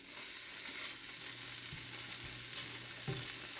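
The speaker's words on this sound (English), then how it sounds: "So you're gonna heat the salmon up with the onions just to get the flavors incorporated." Salmon and onions fry in a pan with a soft, low steady sizzle, faint and continuous, with a couple of light knocks near the end.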